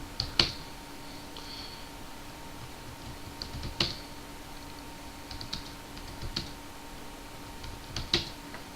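Scattered bursts of keystrokes on a computer keyboard running Ubuntu 13.10, quiet and close, coming in short clusters with pauses between them and no talking.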